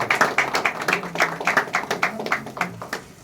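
Audience applause at a celebration party, many hands clapping in a fast, dense, steady rhythm, close and fairly loud with a faint voice underneath.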